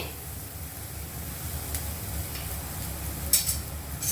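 Spices frying lightly in a pan give a soft, steady sizzle with faint stirring scrapes and a couple of sharper clinks near the end, for a Mangalorean chicken curry to go with kori rotti.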